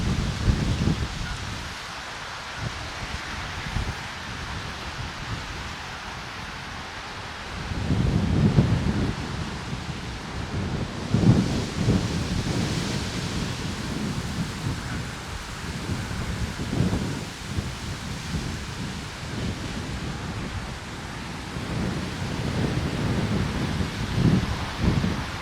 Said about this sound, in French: c'était venteux dehors